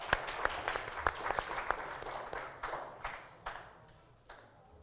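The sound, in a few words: audience applause for panel introduction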